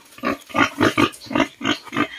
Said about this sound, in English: So these are the big pigs that we are going to transfer.